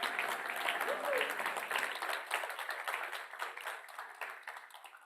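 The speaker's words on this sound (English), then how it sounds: "Let's give them all a big round of applause." Audience applause at a youth agri-food systems event: steady broadband clapping from a crowd, moderately loud and continuous, thinning slightly toward the end, with no speech over it.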